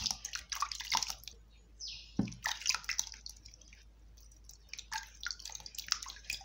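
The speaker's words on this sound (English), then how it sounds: "First, I have to wash the cucumber." Running tap water pours over a whole cucumber as it is washed, with irregular dripping and squishy wet rubbing close by, no voices.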